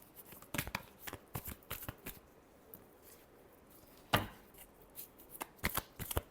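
Tarot cards are shuffled close by in rapid bursts of riffling, papery flutters and soft slaps, uneven in rhythm with a sharp louder riffle midway and no talking.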